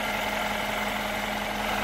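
Steady idle of a 2014 Mercedes SL 550 twin-turbo V8, heard close under an open hood as a smooth, constant hum with a low drone and no talking.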